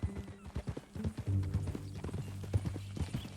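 Horse hooves clip-clop in a steady rhythm during a ride in the video game Red Dead Redemption 2, close and clear, with occasional snorts and a brief whinny mixed in over a low background.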